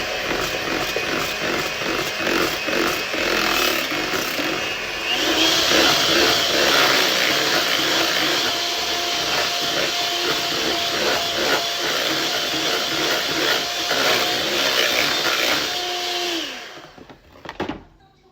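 An electric mixer whirs steadily through egg-free tiramisu cream, a loud continuous motor drone with shifting pitch as the beaters work, cutting off near the end.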